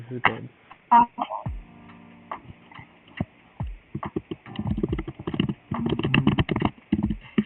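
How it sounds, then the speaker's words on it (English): Clattery keyboard typing in quick irregular bursts, close and fairly loud, with a few louder single clicks and pauses between flurries. "Your typing is so goddamn loud."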